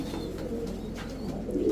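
Giribaz high-flyer pigeons coo in soft, low, rolling calls, close by, with a steady murmur of the flock underneath.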